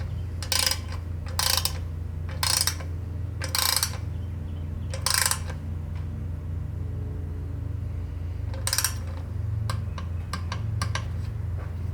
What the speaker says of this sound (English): Since this upper bolt's only a 5/16, I'm only going to torque it to 15 foot-pounds.